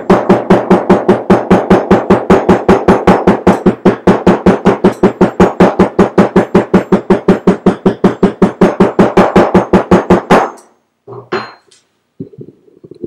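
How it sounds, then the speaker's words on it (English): Rapid, steady hammer blows on leather for a wallet, about five per second, ring out loud and close for ten seconds, then stop, leaving a few faint knocks and shuffles. "I'm going to turn the mic away and hammer this down a little bit"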